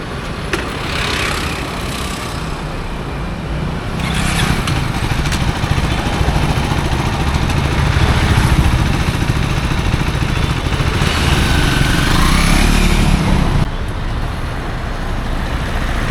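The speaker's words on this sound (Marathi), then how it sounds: "म्हटलं तूच आज बाईकचं थोडं चालवून बघ" A black KTM 390 Adventure motorcycle runs steadily for about fourteen seconds, its engine a loud, sustained drone with wind rush before easing off near the end.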